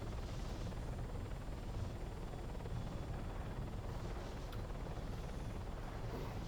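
A helicopter flying in the military video game Arma 3, a constant, loud rotor and turbine drone that holds steady throughout with no break or talk.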